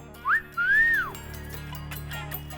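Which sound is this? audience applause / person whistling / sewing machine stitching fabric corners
person whistling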